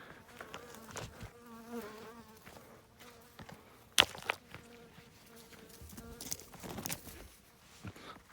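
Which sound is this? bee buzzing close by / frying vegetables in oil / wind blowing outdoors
bee buzzing close by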